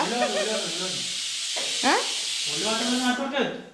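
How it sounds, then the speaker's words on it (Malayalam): Onions sautéing in a pan, a steady sizzling hiss under a man's chatter, bursting briefly louder for a moment near the end. "ഉള്ളി വാട്ടുന്ന ഉള്ളി വാട്ടുന്ന റാഫി"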